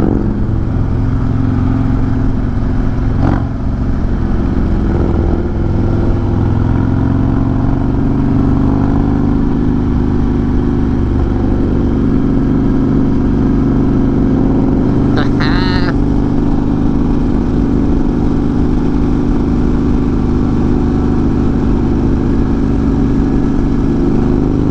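A Harley motorcycle cruises along the Natchez Trace with a steady, loud low engine drone and wind rumble throughout, holding an even pace with one brief sharp chirp partway through.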